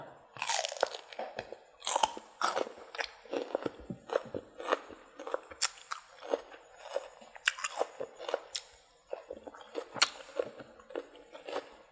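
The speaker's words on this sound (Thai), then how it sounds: "มะละนี่กรอบกรอบ" Someone crunches and chews green papaya salad, a spicy Thai-Lao som tam with pork sausage, in close, loud, crisp bites and wet chewing that repeat steadily with no talk.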